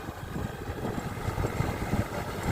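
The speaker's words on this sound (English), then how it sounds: "With our motorbike." Motorbike engine droning steadily while riding along a village road in the early morning, a continuous low rumble with road and wind noise and no talk.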